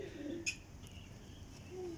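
Faint soft cooing from pigeons, low murmuring coos at a distance with a brief higher chirp, in a quiet setting.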